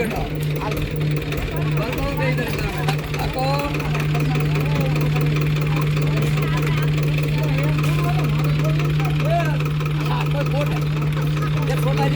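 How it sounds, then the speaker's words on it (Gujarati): A tractor engine chugs steadily nearby in a village during Holi, with a constant low drone, while several people talk over it. "ટ્રેક્ટર આવ્યું છે ધીમે ધીમે"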